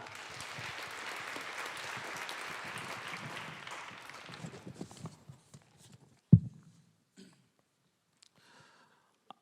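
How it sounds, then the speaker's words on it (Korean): A church youth congregation applauds for several seconds, moderately loud and diffuse, then the clapping thins and dies away into near silence broken by a single sharp knock and a few faint thuds. "우리 하나님 말씀을 기대하는 마음으로 우리 큰 박수로 나가도록 하겠습니다."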